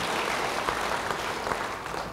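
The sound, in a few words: audience applause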